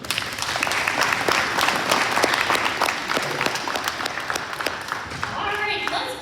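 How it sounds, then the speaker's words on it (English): An audience at an elementary school Spotlight Student ceremony claps in a full, sustained round of applause that lasts several seconds and then tapers off, with a voice speaking over the end. "let's give these great kiddos one more big round of applause"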